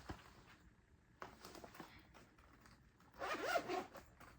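Quiet rustling and handling of an electronics organizer bag, then a quick zipper pulled open near the end, sharp and raspy against faint background noise.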